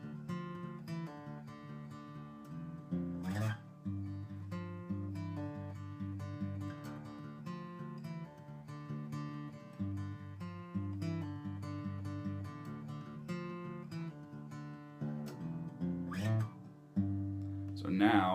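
Acoustic guitar plays the fingerpicked intro to a song, steady plucked notes ringing over open strings with occasional strummed accents, close and clear for the full stretch with no talking.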